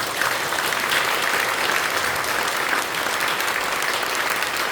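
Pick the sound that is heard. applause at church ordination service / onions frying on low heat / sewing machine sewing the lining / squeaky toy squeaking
applause at church ordination service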